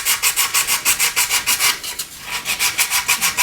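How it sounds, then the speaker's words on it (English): Hard grip sandpaper scrubs a plastic Airfix Handley Page Hampden model around its canopy frames in quick, even back-and-forth strokes, close and crisp, with one brief pause midway. "Quite hard grip sandpaper this."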